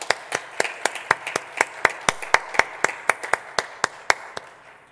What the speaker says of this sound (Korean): 하나님께 영광의 박수 올려드리겠습니다